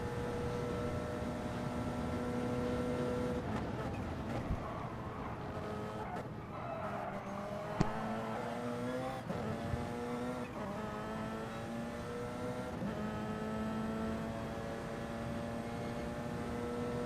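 Race cars at the Le Mans circuit in a sim racing video game, engine notes howling and shifting pitch through gear changes and downshifts, with passing cars and occasional tire squeal over the steady engine roar.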